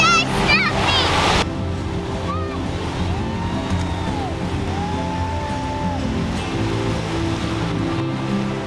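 Surf and waves at Nosara beach in Costa Rica, a steady broadband wash of water rolling in with a constant swell, fairly loud, with a brief burst of other noise at the very start.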